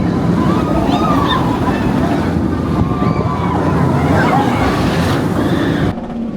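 Water rushing and splashing on a Parc Astérix water ride, a loud continuous wash of surf-like noise with wind buffeting, ending abruptly; voices murmur faintly underneath.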